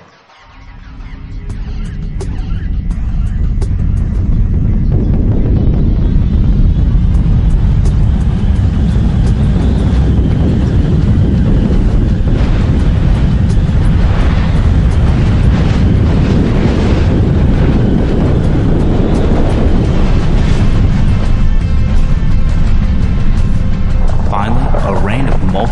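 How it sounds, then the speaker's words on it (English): The shockwave and blast front of an impact explosion arrive as a deep, loud roar that swells within a few seconds and holds steady, broad and rumbling, with a narrating voice heard over it. "The shockwave arrives. Next comes the blast front."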